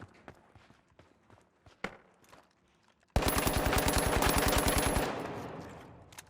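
A medium-build gun fires a sustained automatic burst in the video game The Finals, a loud, rapid string of evenly spaced shots lasting about two seconds, following quieter scattered footsteps and game movement sounds, then fading out.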